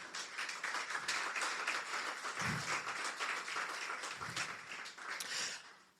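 A church congregation claps steadily for about six seconds, a dense, even, continuous wash of hand clapping with a few louder individual claps and no speech over it.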